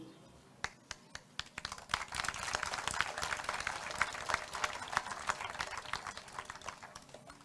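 Crowd applause at a political campaign speech, a dense steady patter of many hands clapping that swells after the first second and holds loud and sustained, with a few sharper individual claps standing out.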